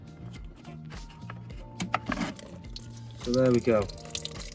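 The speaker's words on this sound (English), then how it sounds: "we should get quite a bit of water coming out of this" Washer fluid runs out of a disconnected headlight washer pipe on a BMW E90/E91/E92 with a faulty washer jet, a brief trickle and splashing burst while someone talks nearby.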